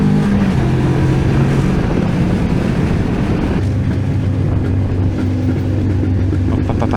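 Steady engine drone of a Moto Morini X-Cape 700 motorcycle being ridden, loud and close, with the pitch dropping as it shifts partway through; no voices.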